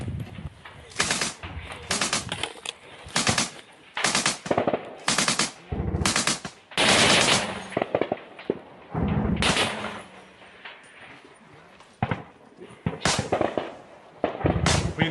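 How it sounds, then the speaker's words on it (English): MG3 machine gun fired by a soldier in the Ukraine war, loud bursts of automatic fire in repeated strings with short pauses between, close and sharp over a distant firefight. "here's the video of this Azov soldier firing this MG3 at the Russians in the distance"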